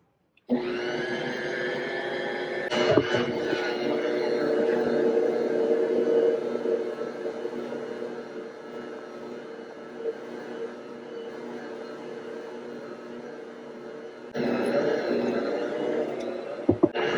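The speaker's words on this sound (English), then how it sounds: "turn on the mixer and let it knead for 10 minutes. And it's going to be a little bit loud" A stand mixer kneads bread dough for soft buttery breadsticks, its motor giving a loud, steady whirring hum throughout, with brief knocks near the start and a change in pitch near the end.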